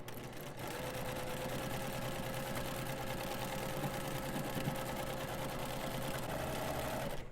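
A sewing machine stitches a fabric bee bag, running in a steady, continuous mechanical whir close by for the whole stretch after a brief quiet start, with no talking over it.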